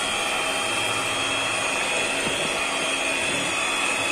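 Electric mixer steadily whirring while beating egg whites for cat tongue cookies, a continuous motor hum with no break, close and fairly loud with no talking.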